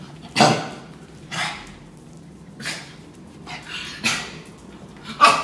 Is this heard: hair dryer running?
no